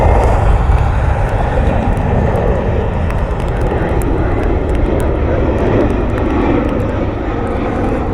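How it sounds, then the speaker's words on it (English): A Delta Connection regional jet arriving from Minneapolis roars steadily at Cleveland airport in the rain, a loud, broad engine rush that holds for the whole stretch. "Delta connection flight coming in from MSP."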